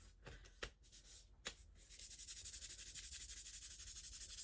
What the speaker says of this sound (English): all you have to do is hold it in between your hands and rub